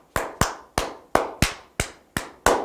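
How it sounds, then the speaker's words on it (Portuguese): Hands clap in a steady rhythmic pattern, about ten sharp, close claps in under three seconds, some falling in quick pairs. The claps are loud and crisp and sound alone, with no voices. "bastando às vezes as palmas ritmadas entre os seus participantes também"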